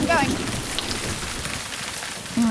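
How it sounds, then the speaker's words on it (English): Rain falls steadily on concrete at a marae at Omaha, a dense even hiss that fills the whole moment, with faint voices at the edges. "we have to put up with the rain"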